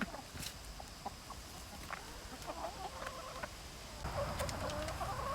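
Hens cluck softly over a steady hiss and scattered clatter of compost being sifted and poured onto their backs, with the sounds fairly faint and distant.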